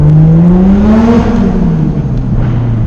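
An eBay turbocharged Toyota Supra engine roars on a dyno, a loud, steady high-rpm drone whose pitch climbs, then eases and sags slightly, with continuous turbo whine throughout and no voices.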